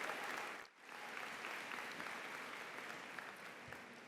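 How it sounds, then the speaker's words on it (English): A crowd applauds steadily at a college convocation ceremony, a dense wash of clapping that dips briefly near the start and then carries on evenly at a moderate distance. "Let's give them one more round of applause."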